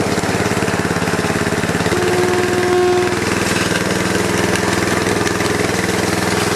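Honda engine on a Bartell power trowel edger running steadily at a fast idle, a loud continuous mechanical drone close by with no talk.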